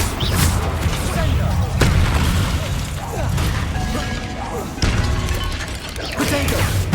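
Confringo fire spell blasts during combat in Hogwarts Legacy: loud, repeated booming impacts and crashes in dense battle noise, with voices shouting over them.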